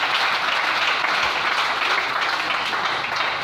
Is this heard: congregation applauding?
yes